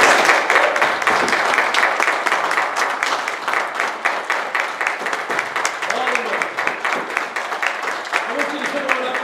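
A congregation claps steadily in praise of mothers, a sustained rapid patter of many hands close by, with a voice speaking over it.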